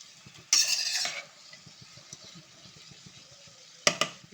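Beetroot poriyal stirred in a pan: a bright metallic scrape and clatter of the spoon near the start, a quieter soft sizzling bed, then two sharp clinks of utensil on pan at the end.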